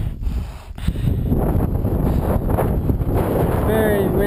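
Strong wind on a Himalayan mountainside during a summit push on Manaslu buffets the microphone with a loud, steady low rumble, broken by a brief dip and a few gusty thumps.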